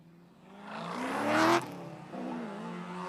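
A Mazda Miata drifting at a Big Indian Drift test-and-tune event: the engine revs and climbs to a loud peak around the middle, then drops and holds at a steady rasp, with tire noise mixed in.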